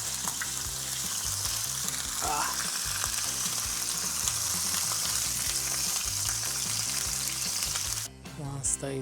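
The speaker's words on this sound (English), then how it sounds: "straight on a fry pan with a little bit of extra virgin olive oil for a few minutes" Squid sizzling and frying in a pan with a little extra virgin olive oil, a steady close crackling hiss that runs unbroken, with a brief stir or clatter near the end.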